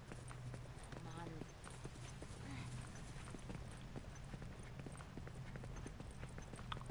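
Horse hooves clip-clop in The Last of Us Remastered: Left Behind, a steady rhythm of hoofbeats running under ongoing talk, with a brief whinny-like call early on.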